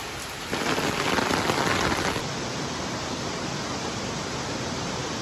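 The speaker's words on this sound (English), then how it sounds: "It's raining" Steady rain falls in Costa Rica, a dense hiss that swells louder for the first couple of seconds, then settles into an even, constant patter with no voices.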